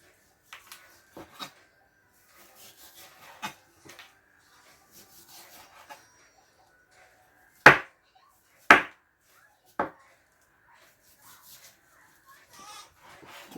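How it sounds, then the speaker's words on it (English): A knife shaves fat from a semi-defrosted hunk of frozen pork on a board, quiet scraping rubs punctuated by three louder sharp cutting strokes, near and close up, with a faint hum in the background. "let's take this frozen hunk. Semi-defrosted. Shave off all the fat."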